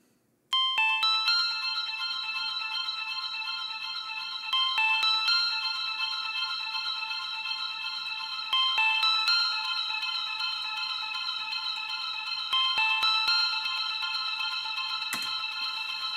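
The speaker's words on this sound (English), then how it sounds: "You got completely different kind of delay reverb things." A bright, ringing synth tone repeats in a steady pattern, its notes smeared by echoing delay and a long reverb tail from the Valhalla Supermassive plugin, with no voices.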